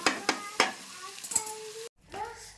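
Masala with salt fried and stirred in a pan for an aloo avalakki (poha) breakfast: sharp clinks of a spoon against the pan over a faint sizzle, several separate scraping knocks, then a short silence and a soft stir.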